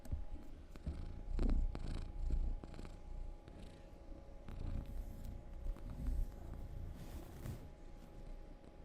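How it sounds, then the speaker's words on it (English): A cat purrs steadily and continuously up close, a low rumbling drone with soft rhythmic pulses and faint handling noises. "She purrs so loud."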